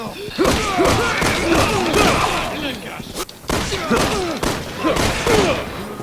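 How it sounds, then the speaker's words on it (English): Handgun quick-shot firing from the video game Resident Evil 6 sounds as a rapid series of punchy gunshots and thuds over game sound effects, with a brief gap midway and someone talking over it. "It does have dual fire mode, and it does have a special quick shot maneuver, which I'll show right now."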